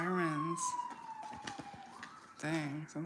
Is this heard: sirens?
yes